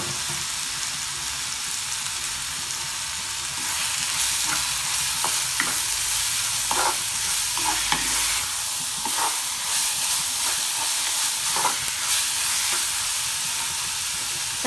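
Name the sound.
tomatoes and onions being sautéed in a pan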